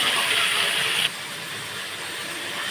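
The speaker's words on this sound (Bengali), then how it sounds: "এবার আমি এই তেলেই চিকেনটা ভেজে নেব।" Chicken pieces frying in hot oil, a steady loud sizzling hiss that drops to a softer, continuous crackle partway through, with no talking.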